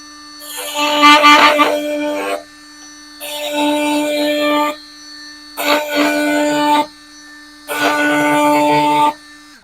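A Metabo HPT oscillating multi-tool set to speed 6 cuts laminate flooring in four separate buzzing bursts of about two seconds each, loud and close, over a constant low hum in the quiet between cuts.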